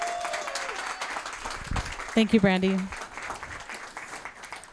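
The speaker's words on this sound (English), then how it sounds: "Let's give her a round of applause." Audience at a Pride summit claps in a round of applause, a diffuse, moderately loud patter that continues while a speaker briefly talks over it.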